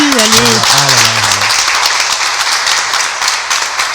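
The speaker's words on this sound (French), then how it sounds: "Voilà, petit applaudissement." A small studio audience claps briefly on a French TV show; voices talk over the opening moments, then a steady patter of hands carries on alone until the end.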